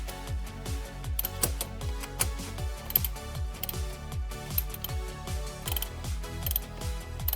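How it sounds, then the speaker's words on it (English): A 21 mm ratcheting wrench clicks rapidly and rhythmically while tightening a stud on a Camaro steering knuckle, a close, dense run of ratchet pawl ticks repeating in short strokes with no talking. "ratcheting wrench here."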